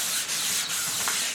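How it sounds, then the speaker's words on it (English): Wet sanding of a Willys CJ5 hood or body panel with guide coat ahead of paint, heard as a steady, close abrasive rubbing hiss with brief strokes and pauses, no talking. "You're wet sanding, and you're making this hood or any body part as nice as you can possibly make it"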